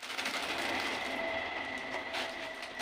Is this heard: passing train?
yes